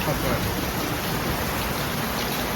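Heavy rain pours down in a dense, unbroken hiss of drops on surfaces, loud and steady from start to finish.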